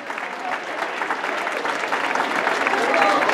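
Sustained applause from a seated school audience honouring a visiting guest, a dense even patter of many hands that swells slightly toward the end, with no talking over it.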